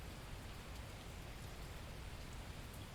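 Steady rain in the video game The Last Plague: Blight, an even, dense hiss of falling drops that holds constant throughout with no pauses.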